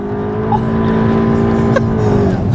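A Mk7 VW Golf GTI accelerates hard with its wheels spinning, giving a close, loud, steady engine drone that holds for a couple of seconds.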